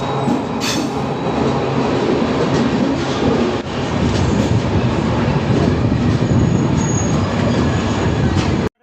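Humsafar Express train passing through a station, loud continuous rumble and wheel clatter close by for several seconds, cutting off abruptly at the end.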